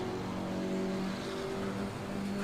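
KTM X-Bow GT4 race car in Assetto Corsa Competizione at Paul Ricard, engine note accelerating steadily and loud, a continuous close-up drone with shifting pitch and no voices.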